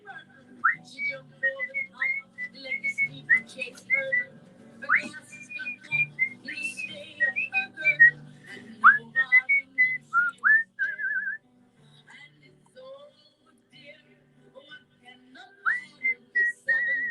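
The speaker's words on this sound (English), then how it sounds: "I think I'm going to record a whole song of just whistling." A person whistles a lively jig-and-reel style tune solo, clear, bright and close, with quick ornamented phrases and a short pause near the end before the melody resumes.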